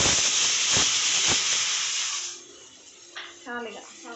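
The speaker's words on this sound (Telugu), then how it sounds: "గాలి తీయండి కుక్కర్కి, ఎందుకంటే మనకి లోపల గాలి ఉంటుంది కదా, దాన్ని పైగానండి" A pressure cooker cooking dal vents steam in a loud, steady hiss for about two seconds, then the hiss fades as brief voices and kitchen sounds come in.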